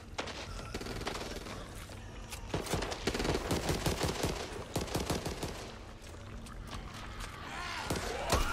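Rapid bursts of automatic gunfire from the Back 4 Blood zombie shooter game, with dense overlapping volleys and sharp cracks running throughout, moderately loud amid chaotic game noise.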